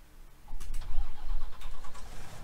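A truck engine in Farming Simulator 19 cranks and catches, rising into a rough mid-pitched rumble that settles toward idle, fairly close and alone.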